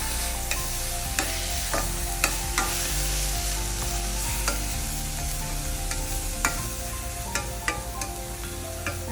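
Carrot halwa with cardamom powder and dry fruits is stirred in a pan, with repeated scraping taps of the spoon over a continuous low sizzle, close and even, with no talking.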